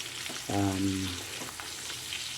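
Steak and garlic fry in pure olive oil in a pan, a steady hiss of sizzling briefly overlaid by a short harmonic tone near the start, fairly close and moderately loud.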